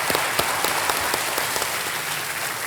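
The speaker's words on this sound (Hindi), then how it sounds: "तालियां बज जाएं इनके लिए।" Studio audience applause on the TV quiz show Kaun Banega Crorepati: a steady, dense wash of many hands clapping at once, loud and continuous for the whole moment.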